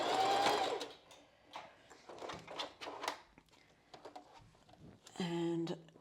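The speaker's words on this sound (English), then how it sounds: "Start sewing it again with the zigzag stitch." Sewing machine running a zigzag stitch across bra channeling in short bursts, buzzing whirs broken by pauses with clicks and handling noises, close and fairly quiet, with a voice briefly audible.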